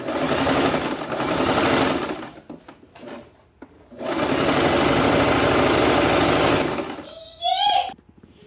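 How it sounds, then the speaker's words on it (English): A sewing machine stitches a draped jacket in two long, loud runs of rapid whirring, separated by a pause filled with handling clicks; a short squeaky sound follows the second run. "Turn it and start stitching along where we have already stitched to reach the shoulder from where we have started"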